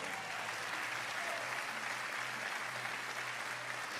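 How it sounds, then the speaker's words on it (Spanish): Sustained applause from a church congregation during a sermon, steady and dense throughout, with a faint low tone beneath it. "Denle un aplauso a Dios."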